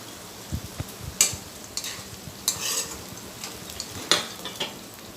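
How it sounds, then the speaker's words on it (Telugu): Bitter gourd pieces stir-fried in a hot pan for a jaggery fry, a soft continuous sizzle broken by several sharp spatula scrapes and clinks as the pieces are turned. "కాకరకాయలు వేసుకొని 2 సార్లు అట్లా తిప్పేసుకొని"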